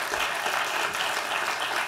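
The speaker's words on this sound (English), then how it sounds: "Give her a round of applause." Audience applause for a guest singled out in the crowd at a talk on the American economy, a steady dense wash of clapping filling the whole stretch at moderate loudness with no voices over it.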